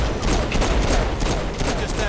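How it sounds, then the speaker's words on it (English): Rapid bursts from the bounce rifle in the superhero open-world game Saints Row IV: a dense, continuous crackling volley of shots, loud and unbroken for the whole stretch, with no voices. "totally messed up with the bounce rifle"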